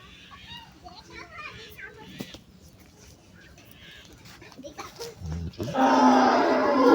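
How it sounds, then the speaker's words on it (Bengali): A cow moos loudly and close by in the last second or so, after a stretch of children playing and talking in the background. "গরুটা দেখান।"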